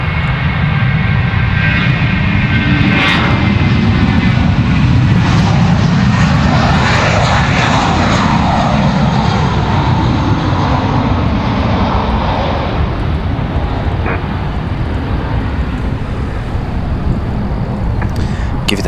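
A fixed-wing airliner departing Raleigh-Durham International Airport roars loud and steady throughout, its engine noise sweeping in pitch as the jet passes and climbs away.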